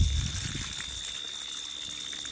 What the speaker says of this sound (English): Get all the mud off of it. We're gonna give it a nice rinse off